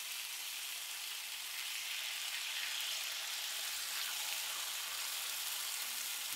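Chicken tacos packed into a pan on a flat top sizzle steadily, giving a continuous, even frying hiss with no talk over it.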